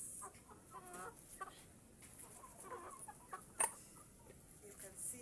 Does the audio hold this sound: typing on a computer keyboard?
no